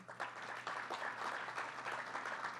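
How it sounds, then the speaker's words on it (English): An audience at a Penn Station entrance design event gives a round of applause. The clapping is fairly distant and steady, sustained for a few seconds with no voices over it. "so let's give him a big round of applause"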